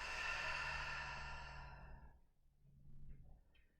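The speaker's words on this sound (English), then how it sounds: "take a big breath in through the nose. And open mouth, exhale, release" A long, audible open-mouth exhale, like a sigh, releases a deep breath during a vinyasa yoga class. It fades after about two seconds into a softer, quieter breath.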